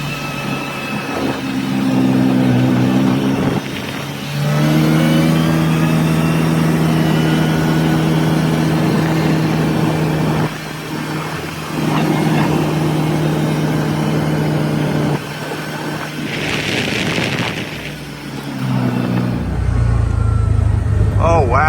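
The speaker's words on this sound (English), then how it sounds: "The concrete truck just showed up." A concrete truck arrives at a residential lot being prepared for a driveway pour, its engine running loud and close with steady droning tones that dip and rise as it maneuvers.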